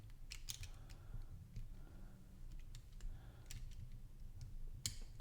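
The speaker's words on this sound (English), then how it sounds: "We're going to try to click them together." Small plastic LEGO pieces click and tap together in quick, light bursts, close and fairly quiet, with scattered sharp snaps over a soft background and no talk.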